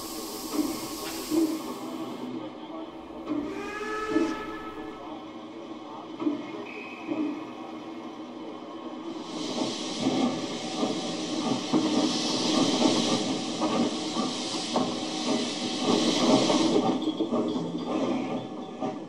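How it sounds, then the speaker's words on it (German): A small locomotive on the line toward Fertőszentmiklós at Pamhagen station strains to accelerate a train of three freight wagons, with steady mechanical hiss and rolling rail noise that swells louder toward the end, no voices. "Die kleine Lok hat ein wenig Mühe, ihren Zug nach Fertőszentmiklós zu beschleunigen"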